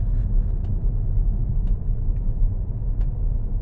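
Steady low street traffic rumble from passing cars and road vehicles in Bonifacio Global City, with faint brief clatters and hiss on top, continuous and moderately close with no talking.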